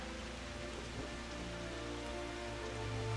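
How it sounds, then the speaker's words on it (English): Steady rain patters in the video game Final Fantasy XIV, a soft, continuous hiss of drops that runs under low, sustained background music, with no voices present. "Can this rain be done now, please?"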